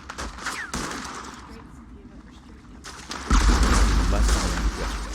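Gunshots in Red Dead Redemption Online crack out repeatedly, loud and close, with a heavier volley near the end, while people talk over the firing.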